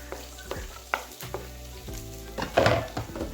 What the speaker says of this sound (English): put the oil in the pan, put oil in, give it a little mix around and add our onion